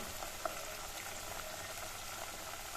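Steady low bubbling and fine crackle from a pan of butter simmering into ghee, continuous and even, with no voices.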